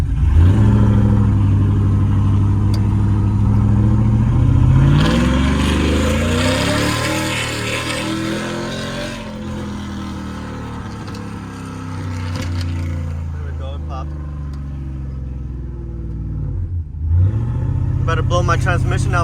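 Cammed 5.3 V8 with a Carven R exhaust, a loud, deep, throaty idle swelling into sustained revs with a brief dip and blip near the end; speech is likely present but not confirmed.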